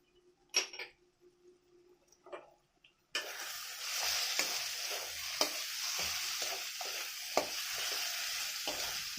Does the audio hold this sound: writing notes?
no